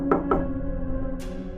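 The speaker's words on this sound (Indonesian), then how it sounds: "Dari arah dapur terdengar suara ketukan keras," Two loud, close knocks land in quick succession on a hard surface in a kitchen for a horror story sound effect, followed by a sharper single hit over a low, droning background hum.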